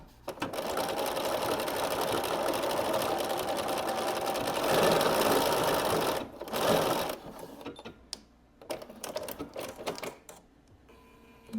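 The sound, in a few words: sewing machine back-stitching a zipper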